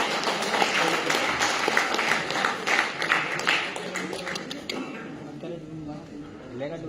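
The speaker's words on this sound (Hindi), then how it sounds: "एक बार जोरदार तालियों के साथ में" Crowd applause at the closing ceremony of a Sadbhavna cricket league tournament, with loud, dense clapping that holds for several seconds and then quickly dies away, with talk faintly underneath.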